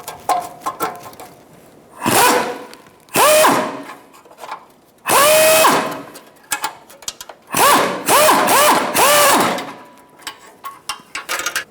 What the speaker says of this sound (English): Using a 10mm wrench, we're going to hold the nut and remove the bolt.